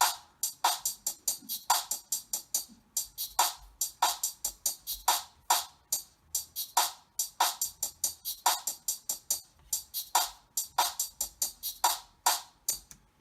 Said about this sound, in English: The drum loop I used for this beat was like an R&B drum loop.